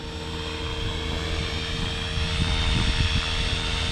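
A 500XT helicopter in a steady hover on an operational check flight in light wind, its engine and rotor making a continuous, fairly loud drone with low rotor thumping throughout and no talking.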